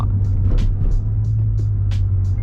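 A white 2012 BMW M5 F10 with a 4.4-litre engine climbing onto a bridge, heard from inside as a steady low engine and road drone with faint ticks and bumps over it.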